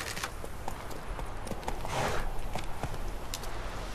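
Horse hooves clip-clopping in The Witcher 3 game, a steady run of close, rhythmic hoof strikes over a rough, noisy ground bed, with no voices over it.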